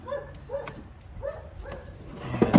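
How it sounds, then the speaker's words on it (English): Several dogs barking in the distance, heard as four evenly spaced barks that are not very loud, with clanking as a car's engine work wraps up nearby. "There go the dogs barking at what is probably, hopefully, a FedEx guy delivering parts"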